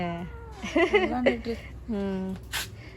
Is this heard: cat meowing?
yes